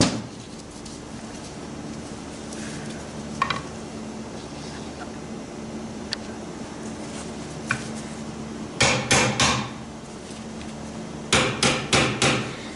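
Background noise, then bursts of sharp metallic hammer taps in quick clusters of three or four, tapping a part out of a 4R70W-family automatic transmission, close and fairly loud.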